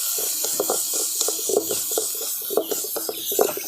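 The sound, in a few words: pea paste sizzling while frying in a pan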